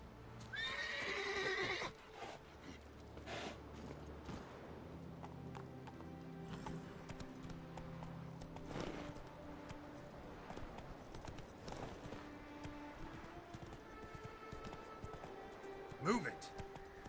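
Roach the horse in The Witcher 3 lets out a loud neigh near the start, then hooves clip-clop in a steady galloping rhythm beneath game music while someone talks over it.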